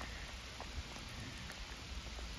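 Steady rain falls at the Ron Coleman crystal mine, a soft constant hiss with scattered faint drip ticks, close and unbroken, with no voices.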